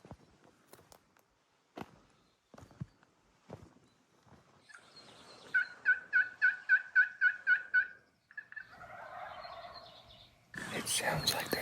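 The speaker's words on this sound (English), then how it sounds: "We got our first gobble of the day." A wild turkey gobbles from the bottom of a desert canyon in one distant, rapid, rattling burst. Soft footsteps and rustling of people sneaking in come before it, and a louder rush of noise follows.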